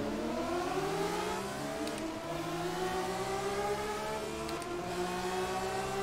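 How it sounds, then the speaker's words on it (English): A high-revving BMW racing car engine in the game GT Legends roars steadily, its pitch climbing and dropping through gear changes, loud and close with no talking. "Listen to that engine."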